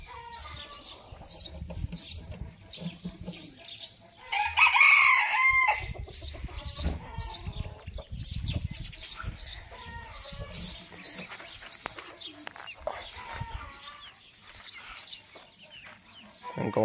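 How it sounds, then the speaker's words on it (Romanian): Crested naked-neck rooster with other chickens nearby, clucking steadily throughout and breaking into a loud, close burst partway through, with small chick chirps mixed in and no talk. "Și golașul moțat, cocoșul."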